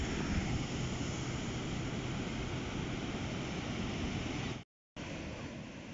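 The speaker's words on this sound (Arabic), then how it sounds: "الصوت باش تسمعوا مواجهه البحر" Sea waves at the beach roll in as a constant broadband roar with wind buffeting the microphone, steady and close, broken by one brief cut to silence near the end.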